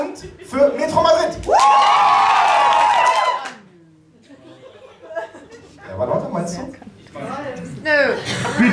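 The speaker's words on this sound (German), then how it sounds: "bitte nur 2 Sekunden so laut wie möglich jubeln, brüllen, klatschen" At a talent show year-end final in the Pool Garden, a crowd erupts for a band with a loud two-second burst of shouting, whooping and clapping, then drops to scattered voices and talk.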